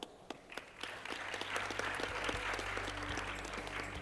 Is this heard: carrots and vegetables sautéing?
no